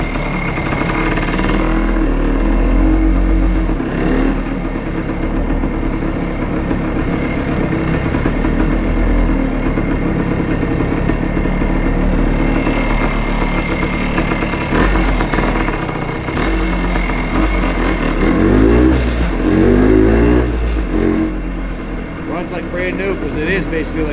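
A 1973 Kawasaki F11 250cc motorcycle runs steadily while ridden through a museum interior, its mid-pitched engine hum continuous and fairly loud throughout, with a voice talking over it.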